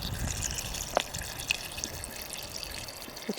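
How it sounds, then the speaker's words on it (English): Water poured into a pouch of dehydrated shepherd's pie at a windy lakeside camp, a soft continuous trickle with a couple of small splashes and clicks over outdoor background noise. "We'll add just enough water to cover the food"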